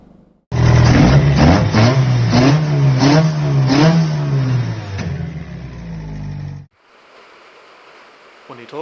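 A Toda 20v engine on a dyno screams very loudly, rising in pitch through repeated rev sweeps for about six seconds before cutting off abruptly into quiet background.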